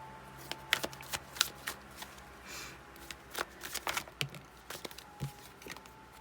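Tarot cards being shuffled and drawn from the deck, with a run of crisp riffling and flicking bursts of card slaps and snaps, fairly close and quiet, and no talking.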